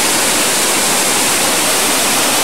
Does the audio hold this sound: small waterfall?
yes